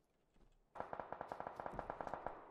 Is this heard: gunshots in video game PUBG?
yes